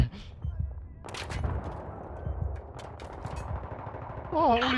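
Gunfire crackles in a multiplayer first-person shooter match, sharp shots in quick bursts and single cracks over rumbling game ambience, while a player talks over it and a rising whine enters at the end.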